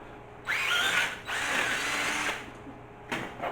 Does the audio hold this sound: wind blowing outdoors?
no